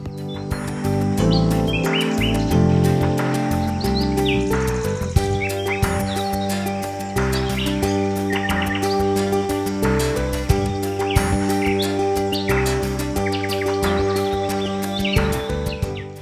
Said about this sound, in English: the local bird life includes the pied flycatcher, wood warbler, lesser spotted woodpecker, red star and dipper